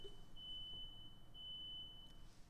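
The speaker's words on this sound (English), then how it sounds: "The fucking fire alarm's going off." A fire alarm gives off a steady high electronic tone that rises to two brief louder beeps over a low background rumble, with no talk.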